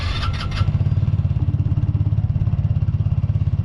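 A Polaris RZR 200 with an upgraded clutch, ECU and exhaust cranks briefly, then catches and settles into a close, loud, steadily pulsing idle.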